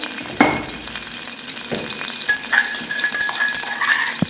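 Ground garlic, green chili and ginger paste sizzling in hot oil for a guava curry, a steady close frying hiss with a few sharp clinks of a utensil against the pan.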